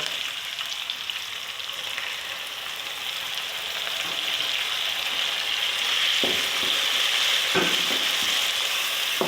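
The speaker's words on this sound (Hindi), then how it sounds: "और देखिए बस, चिकन भून रही है, और साथ में टमाटर डालूंगी।" Chicken frying in a pan, a dense, steady close sizzle that grows slightly louder, with a few soft stirring clinks toward the end.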